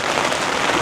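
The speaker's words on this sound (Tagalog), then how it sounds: "masyado nang malakas yung ulan" Heavy rain pours down hard on an outdoor hot spring in Japan during a storm, a dense, steady roar of close downpour filling the whole moment with no voices.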